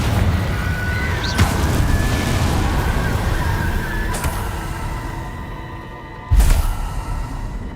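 Confringo spell blasts from Hogwarts Legacy land as three separate booming bursts spaced a few seconds apart, the last one heaviest, over a continuous bed of game ambience and music.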